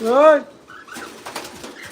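Pet pigeons or doves in a breeding setup, one loud close coo at the start followed by softer calls and light fluttering or shuffling.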